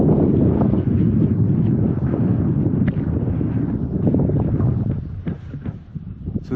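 Steady wind buffets a sailboat with a junk rig sail left unsheeted and weathercocking in a light breeze, a continuous close rushing roar across the whole span that eases slightly near the end.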